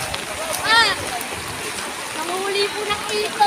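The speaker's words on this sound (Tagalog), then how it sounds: "Grabe, ang taas ng baha dito" Rushing, splashing flood water churns steadily with a broad hiss, while a voice talks over it and a brief high whine rises briefly.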